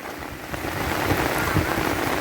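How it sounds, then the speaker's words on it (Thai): Steady rain falls on a rural home on a hot afternoon, a dense continuous patter and hiss close by with no talk. "ฝนตกลงมา สมกับการรอคอย"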